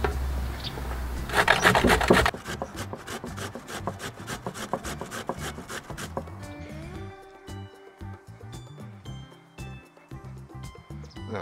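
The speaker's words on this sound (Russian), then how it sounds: "Морковку натрем на крупной терке." Carrot rubbed on a coarse grater in a kitchen, a close, steady rasping scrape in repeated strokes, with music playing underneath.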